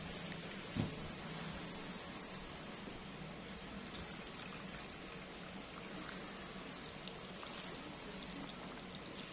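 A liter of water poured into a mix of yeast and sugar for homemade pineapple wine: a steady, faint stream of liquid running continuously for several seconds after a small knock at the start.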